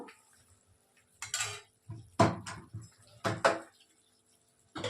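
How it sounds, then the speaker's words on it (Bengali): A lid comes off a pot of vegetarian raw jackfruit kofta curry in a few short, close clattering knocks separated by quiet gaps, with no one speaking. "2 মিনিট হয়ে গেছে, এবার ঢাকাটা খুলছি"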